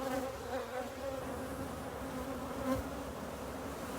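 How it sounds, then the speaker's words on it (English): Honeybees swarm over an opened beehive frame full of honey, a dense, steady buzzing hum from many insects, close and continuous with no voices. "check out all these bees"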